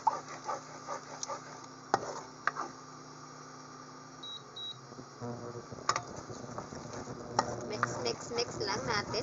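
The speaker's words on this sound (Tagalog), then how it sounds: "Mix lang natin ang itlog hanggang ano na siya, magbuo-buo." Eggs cook in a hot pan for spicy shrimp fried rice, a soft sizzle with intermittent scraping and stirring clatter of a utensil, fairly quiet, with brief bits of talk in the background.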